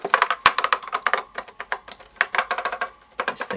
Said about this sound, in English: These things are nice to type on, like really fucking nice.